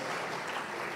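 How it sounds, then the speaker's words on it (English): An audience applauds a group of four speakers at a university event, a steady dense clapping that is fairly faint and heard alone. "Let's give another round of applause to all of our 4 speakers"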